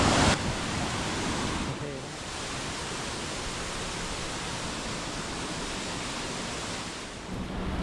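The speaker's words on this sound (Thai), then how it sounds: "มาดูน้ำตกที่แห่งนี้นะครับ" A waterfall at Kewata homestay in Nan province, Thailand, roaring as a loud, dense, continuous wash of water noise that barely varies from start to finish.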